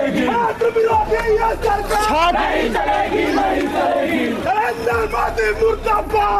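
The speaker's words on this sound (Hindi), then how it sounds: "धर्मेंद्र प्रधान इस्तीफा दे के नारे लग रहे हैं लगातार" Students protesting at Lucknow University, a loud crowd chanting slogans in unison with rhythmic shouted bursts, continuous and close throughout.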